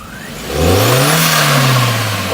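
A 1.8 car engine fitted with a cold air intake revs up once, rising to a held, throaty roar and then easing slightly, close and loud, with no talking.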